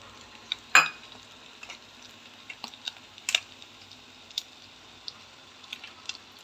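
Egg fried rice with salt, garam masala and spices being stirred in a pan: soft intermittent scrapes and clicks of a spoon against the metal over a faint sizzle, quiet and close.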